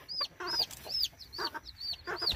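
A mother hen being caught and held, giving a rapid run of loud, close clucks and squawks in uneven bursts.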